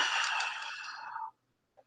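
A long, deep exhale let out with audible breathy sound during a guided breathing exercise, loud and steady for over a second before trailing off into silence.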